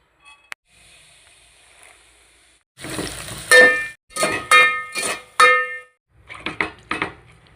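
Coconut milk chicken is stirred in a pot, starting faint, then a run of loud scraping and clanking strokes in an irregular rhythm, fading into softer stirring at the end.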